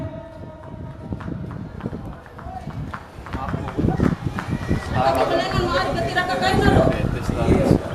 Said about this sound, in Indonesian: Pot ketiga sebentar lagi akan dilewati oleh 4 ekor kuda ini.